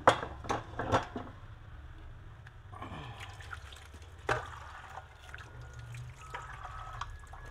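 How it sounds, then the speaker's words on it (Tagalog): Water trickles and splashes into a cooking pot in short, uneven bursts, fairly close but quiet, with faint clinks and handling knocks around it and no talk. "Lalagyan na natin ng ating water."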